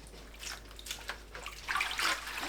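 Tap water runs and splashes softly while chamnamul greens are rinsed, a quiet close-up trickle with uneven gushes that grows stronger toward the end.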